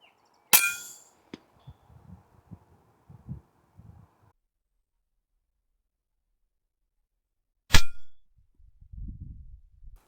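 Rifle shots taken at rabbits while hunting at dusk, about 130 yards out: two sharp, loud cracks several seconds apart, each followed by a brief low rumble, with faint rustling between them.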